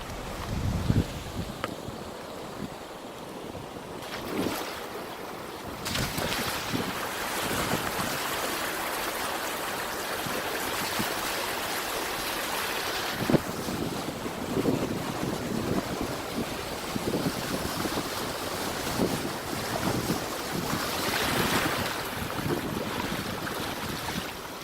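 Blue River in Oklahoma flowing in a steady rushing wash, mixed with gusty wind buffeting the microphone, continuous and fairly loud throughout.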